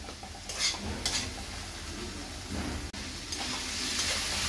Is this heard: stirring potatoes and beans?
yes